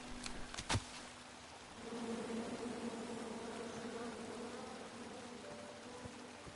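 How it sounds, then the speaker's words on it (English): Bees buzz in the King's Quest video game, a steady, faint droning hum that starts after a couple of sharp clicks and continues evenly to the end. "If I shake these bees."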